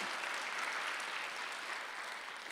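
A church congregation at a Sunday worship service breaks into sustained, dense applause, a steady wash of many hands clapping at once with no talk over it.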